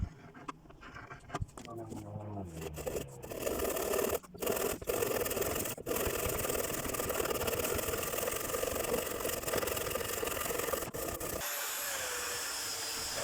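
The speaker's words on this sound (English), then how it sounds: "I used a sander to round off the base of the tabernacle to match the fillet at the back of the foredeck" Power sander rounding off the wooden tabernacle base on a Pocketship boat build, a rough continuous grinding and scratching hum with uneven pressure changes and brief dropouts, close and fairly loud, with a voice audible at the start.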